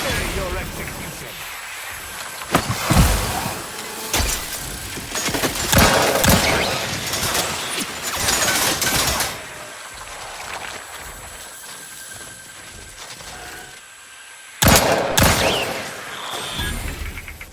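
Gunfire in The Outer Worlds 2, with bursts of rapid shots and heavy booms coming in clusters across a noisy combat scene, mixed with game sound effects and spoken character dialogue.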